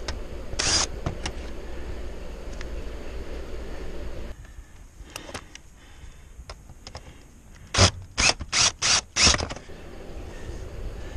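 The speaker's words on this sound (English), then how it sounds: "I'm installing the three screws now that will" A power driver sets screws through a turbine vent elbow into a metal roof, a cluster of four or five short loud whirring bursts after quieter handling and scraping noises.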